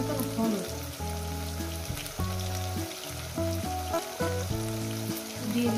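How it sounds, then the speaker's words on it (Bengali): Potatoes fry in a pan over medium gas, a steady close hissing sizzle running throughout beneath background music tones. "এবারে সুন্দর করে মিনিমাম 7 মিনিট আমি এই আলুটাকে 7 মিনিট ধরে আমি ভাজবো মিডিয়াম গ্যাসে"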